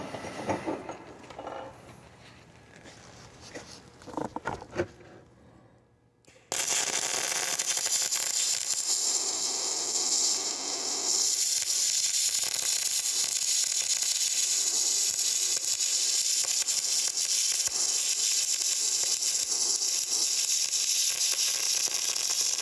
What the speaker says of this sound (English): you're going to be able to hear that characteristic spray transfer, that spray noise